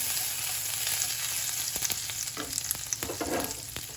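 Curry leaves dropped into spices and ginger frying in a pan over medium heat, a steady close sizzle that turns into brighter crackling and popping bursts along with light stirring clicks, no voices.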